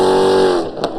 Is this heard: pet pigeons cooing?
no